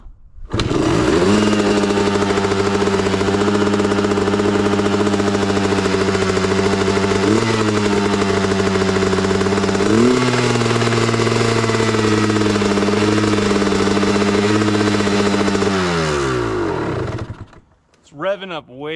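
A dirt bike engine, throttle adjusted too far out, is kick-started and revs high and loud at close range, holding a buzzing high idle with slight pitch shifts before it drops and cuts out near the end.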